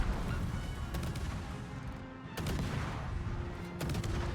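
Ship gunfire in a naval warship battle game, a dense distant rumble of shots with a few sharper bursts rising out of it, steady low background with no voices.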